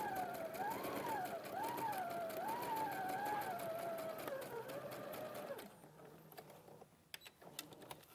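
A sewing machine runs a line of gathering stitches in one steady, fairly loud stretch that stops partway through, leaving quieter handling noises.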